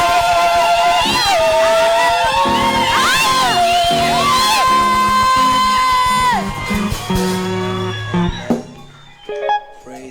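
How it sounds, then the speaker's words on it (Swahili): Church congregation clapping, cheering and ululating loudly together through most of the moment, with high trilling whoops rising above the crowd before the noise thins near the end. "Nimesema makofi na uongeze shangwe na vigelegele."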